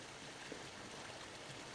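A small river in a nature reserve, a brown trout spawning site, rushes beneath a bridge as a faint, steady, even wash of flowing water with no voices.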